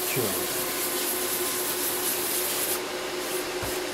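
Sandpaper rubbing over a cured UV-cured finish, a steady close abrasive hiss that runs continuously for several seconds and eases off near the end.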